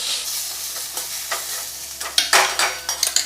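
Taro leaf greens are stirred and sautéed in a pan, sticking to the bottom, with close, loud scraping strokes of a spatula over a steady sizzle, the scrapes growing quicker and sharper toward the end.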